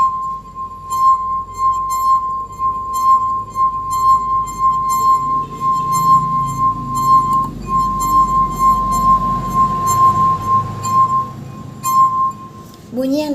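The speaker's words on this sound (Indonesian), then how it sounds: "Lalu percobaan ketiga yaitu 1/4 gelas air. Langkah-langkahnya sama, yaitu celupkan jari ke dalam air lalu digesekkan." A wet finger rubbed around the rim of a glass a quarter full of water sings a sustained, clear ringing tone that swells and fades with each stroke, close up, with faint clinks near the end.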